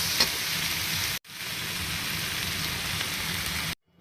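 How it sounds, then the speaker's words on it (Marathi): Sambar masala sizzling and frying in a pan while making idli sambar, a steady close hiss that runs alone with one brief pause partway through and stops just before the end. "अशा रीतीने सांबार मसाला घालून छानपैकी फ्राय करून घ्यावे"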